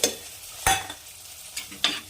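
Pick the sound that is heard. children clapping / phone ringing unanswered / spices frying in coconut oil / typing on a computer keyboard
spices frying in coconut oil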